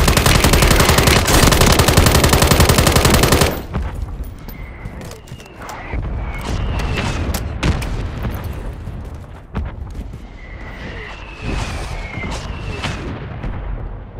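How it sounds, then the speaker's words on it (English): Mortar strike explosions in a Call of Duty match ring out: a dense, loud barrage of rapid blasts and gunfire for the first few seconds, then scattered sharp impacts and booms with whistling sounds over quieter battlefield ambience. "Friendly mortar strike on the way."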